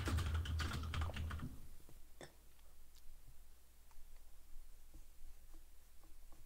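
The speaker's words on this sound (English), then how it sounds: "Sorry for typing" Computer keyboard typing during an Xbox gaming session, a loud burst of rapid key clicks at first, then sparse, faint individual taps over quiet room noise.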